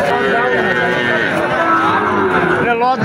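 Sahiwal cattle at a busy rural cattle market, one loud close moo drawn out over the full stretch, with other animals and the dense hubbub of the market behind it.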